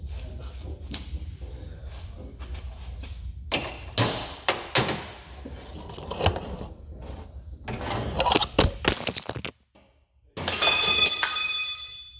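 Wrench work on the CV axle nuts of a BMW E46, close clicks, taps and metallic clanks in irregular bursts, followed by a sharper metallic rattle near the end.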